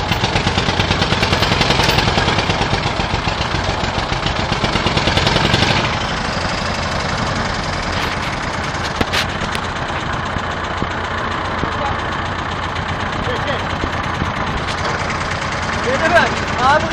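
A Pancar patpat motor and an İşbora tractor run side by side, a loud rough engine chugging with a rapid knocking beat that throttles down partway through, with sharp bangs and voices over it.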